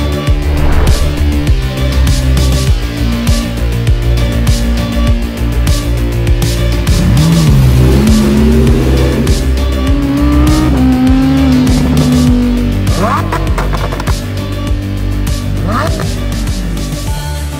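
A Lamborghini Huracan STO with a 640-horsepower engine drives with a loud, continuous roar that rises and falls through gear changes and revs, heard close from inside or beside the car.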